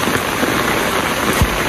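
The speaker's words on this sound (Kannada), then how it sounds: "ಸಖತ್ ಮಳೆ ಬರ್ತಾ ಇದೆ." Heavy monsoon rain pours on a forest trail in the Western Ghats near Chikkamagaluru, a dense, steady close hiss of drops on leaves and ground with no talk over it.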